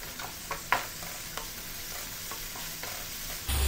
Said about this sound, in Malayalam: പൊടിയായിട്ട് അരിഞ്ഞു വെച്ചിരിക്കുന്ന തക്കാളി ചേർത്ത് കൊടുക്കാം വീണ്ടും ഒന്നുകൂടെ വഴറ്റി കൊടുക്കാം